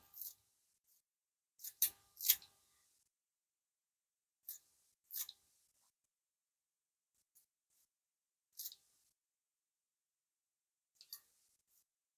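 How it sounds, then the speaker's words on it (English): Quiet kitchen knife chops through fresh cilantro in an RV travel trailer, a handful of short crisp cuts in scattered small bursts with silent gaps between. "Go ahead and cut in some cilantro."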